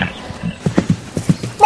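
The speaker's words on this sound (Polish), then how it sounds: "To są dzikie konie Przewalskiego." Przewalski's wild horses clop their hooves in a short, uneven run of close, moderately loud thuds with no talk.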